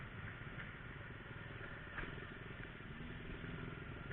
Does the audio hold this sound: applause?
no